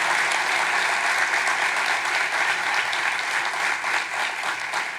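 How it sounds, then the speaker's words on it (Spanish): Sustained applause from a live audience at a podcast recording honoring Pastor Alducín, a steady dense wash of clapping throughout with no voices over it. "Le damos un aplauso bien fuerte a Dios por la vida del Pastor Alducín."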